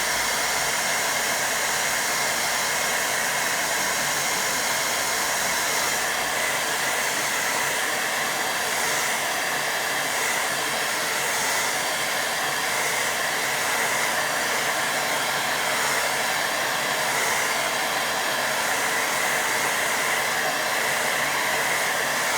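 A hair dryer blows steadily on a watercolour painting of a lighthouse, a loud, unbroken whooshing hiss that runs on alone for over twenty seconds.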